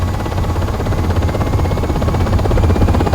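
A UH-60 Black Hawk helicopter makes an air assault takeoff, its rotor and engines producing a loud, steady low throb and buzz heard close up from inside the aircraft.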